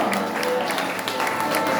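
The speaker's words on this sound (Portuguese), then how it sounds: "Você pode aplaudir ao Senhor nessa noite" A church congregation applauds during an evening communion service, a thick, even wash of clapping that holds at the same level throughout, with faint voices mixed in.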